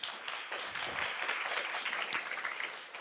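Applause from the audience at a forum on semiconductors and national security, a soft, distant wash of many hands clapping that holds steady for about three seconds.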